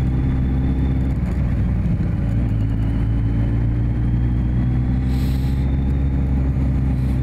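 A motorcycle rolls slowly along a road through a village, its engine a steady low drone close by, with a constant rush of wind over the helmet.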